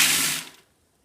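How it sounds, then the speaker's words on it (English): Water pours into a bucket with holes in the bottom holding peas and barley, a short bright rushing splash that stops abruptly after about half a second. "I'm going to fill it with water and soak these for the chickens."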